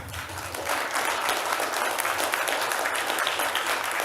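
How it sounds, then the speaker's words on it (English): Audience at a summer convention business meeting claps for the panel, a steady, moderately loud burst of many hands that swells after a brief quieter start and keeps going. "Big hand for our panel,"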